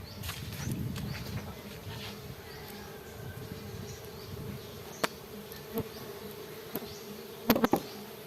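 Stingless bees buzzing around an opened colony box outdoors, a steady low drone with individual insects passing close, plus a few sharp clicks and taps near the end.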